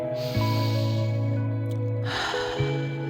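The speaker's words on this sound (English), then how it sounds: "let's finish this meditative workout with 3 deep breaths" A deep, slow inhale during a meditative workout, a soft breathy rush heard close up over sustained tonal background music.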